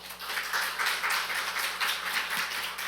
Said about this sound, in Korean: 선교사님 나오실 때 환영의 마음을 담아서 박수로 또 모시겠습니다